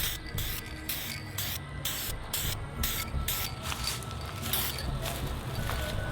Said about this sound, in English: Once you spray it the first time,